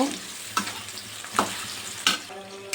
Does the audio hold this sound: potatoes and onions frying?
yes